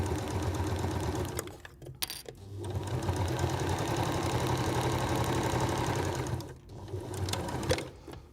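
A sewing machine stitches short oilcloth seams on a reusable snack bag, humming steadily in a close, continuous run with two brief pauses.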